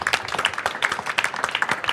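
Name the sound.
audience applause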